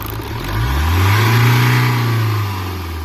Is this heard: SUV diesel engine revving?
yes